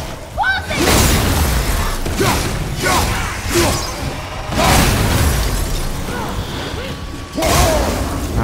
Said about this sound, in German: Ah, immer dieses Explodieren.